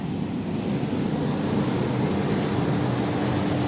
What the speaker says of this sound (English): these air conditioners here are so quiet